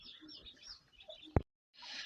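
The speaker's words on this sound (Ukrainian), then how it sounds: "коли чує курчата пищать" Faint, high peeping of chicks scattered through quiet background noise, interrupted by one sharp knock, then a brief burst of hiss.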